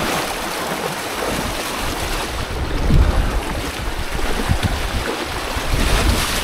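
A fast-flowing river current rushes steadily and loudly up close, a broad churning roar with gusty surges and no talk over it.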